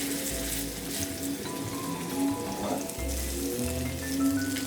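Boneless beef short rib searing in a hot non-stick pan, a steady close sizzle with soft crackles running throughout without pause.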